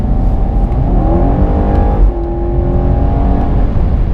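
An Alpina B7 in Sport Plus mode accelerates with a loud, smooth engine note rising in pitch from inside the car, with a brief shift partway through.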